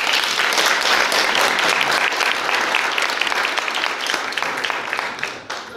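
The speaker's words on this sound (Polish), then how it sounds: "proponuję nagrodzić przybycie wszystkich bartników i pszczelarzy oklaskami" Audience applause greeting beekeepers and forest beekeepers at a formal gathering, a dense sustained clapping from a large crowd that holds steady and thins slightly near the end.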